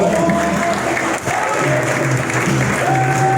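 A church congregation applauds in acclaim during a Sunday worship service, steady broadband clapping throughout with sustained organ or keyboard tones and a brief dip near the middle, under a voice speaking.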